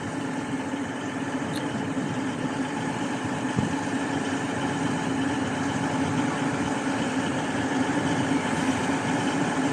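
A CrossCountry train idles at Totnes station before departing for Edinburgh, a steady loud diesel engine rumble with broad noise that holds constant throughout, one faint click partway through.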